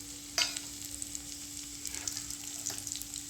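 Cumin seeds and dried red chilies fry in oil in a kadai with a soft, steady sizzle and occasional stirring clicks, quiet and close, over a faint constant hum.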